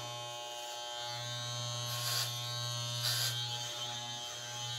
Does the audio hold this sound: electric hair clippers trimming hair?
yes